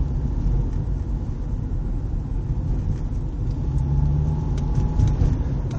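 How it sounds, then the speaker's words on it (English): A 2002 Subaru Outback with the 2.5 H4 engine, hesitating before surging when the gas is pressed, gives a deep, steady rumble from inside the car that swells louder in the last couple of seconds. "Stepped on the gas, nothing happened at first, and then it jumped."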